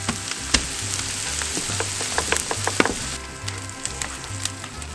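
Chopped onion and smoked garlic fry in a pan, a dense crackling sizzle with frequent sharp pops and spatters over a low, pulsing hum, close and fairly loud, no talking.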